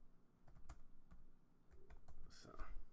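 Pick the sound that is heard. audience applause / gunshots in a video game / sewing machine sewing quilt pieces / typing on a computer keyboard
typing on a computer keyboard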